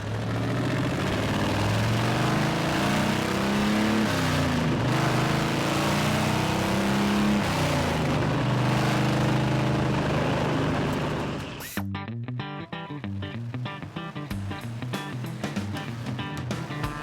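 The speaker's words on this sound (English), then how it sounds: "The sound of the Boss 9 through unmuffled pipes is just magic and idle. And it's absolutely bombastic when you open the throttle." A 1967 Mercury Cougar with a Boss 9 V8 running through unmuffled pipes roars loudly, revving up and holding high for most of the stretch, then drops back to a rough, choppy idle.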